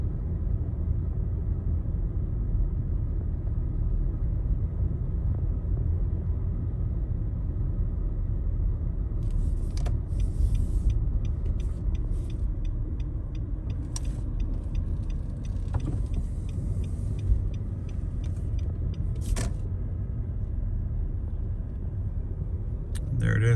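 Car driving slowly past a historic grave site in Gainesville, Georgia, heard from inside as a loud, constant low road rumble, with faint intermittent rattles above it and no clear voices.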